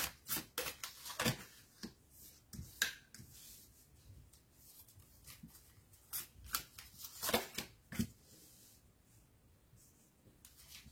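Oracle cards being shuffled for a reading, a soft papery riffling and slapping that recurs in quick irregular bursts over a quiet, close background with no talking.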